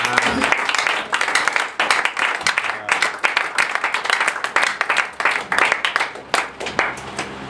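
A church congregation fills the space with steady, dense applause and acclamation for the Lord during a French sermon, a continuous wash of many hands clapping that swells and dips in waves.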